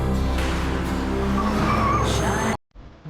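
A Ferrari 355 supercar drives hard with a steady, loud engine roar and tyre squeal for about two and a half seconds, then cuts off abruptly into near quiet.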